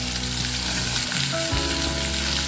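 Potatoes, cauliflower and peas fry together in a pan for a Bengali cauliflower singara filling, producing a loud, continuous, close crackling sizzle with no voices.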